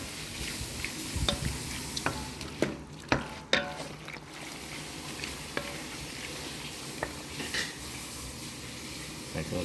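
A makhwaen spice mixture is stirred in a pan, with steady scraping and stirring over a soft sizzling bed and a few sharp clinks of a utensil against the pan.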